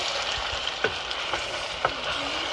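Potatoes being stirred in a hot pan for a braised potato dish, a steady bright sizzle and frying hiss with several soft scraping strokes of the spoon. No voices, close and continuous.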